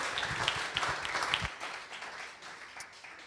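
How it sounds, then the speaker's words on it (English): Steady applause from a tech conference audience fills the clip, strongest at first and then thinning out slightly as it continues. "One big applause for Seth."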